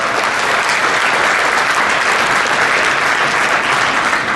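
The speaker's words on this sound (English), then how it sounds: "Let's give David a big round of applause." Dense, sustained applause from an event audience for a keynote speaker sponsor, loud and unbroken, with no talk over it.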